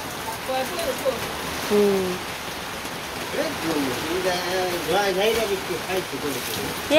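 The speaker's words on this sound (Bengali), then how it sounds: "এত বৃষ্টি বাবা রে" Dense, steady rain roars across the whole stretch while a person talks over it in the foreground.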